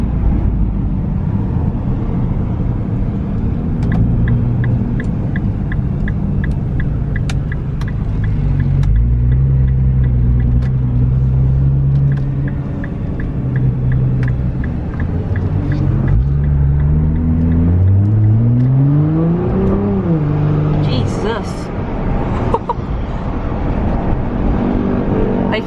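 Nissan R35 GTR driving on the road, its engine humming steadily inside the cabin with rising and falling revs and a sweeping climb through the gears, loud and close with no speech.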